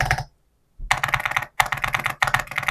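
Keys clack on an Epomaker MS68 mechanical keyboard in quick bursts of typing, broken by a brief pause, close and crisp.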